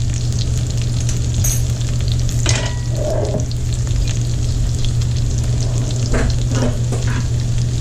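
Garlic sizzles and fries steadily in a hot pan for shrimp and sausage paella, a continuous close crackle with a low steady hum and a few brief stirring clinks.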